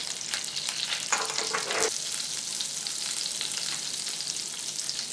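Mustard seeds fry in melting butter in a pan for a paneer masala dosa, giving a steady close sizzle with a brief burst of louder crackling near the start.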